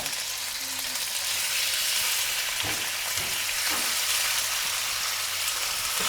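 Chicken fries in oil in a pan for a Kerala-style chicken ghee roast, giving a steady broadband sizzle throughout with a few soft knocks from the pan, and no speech.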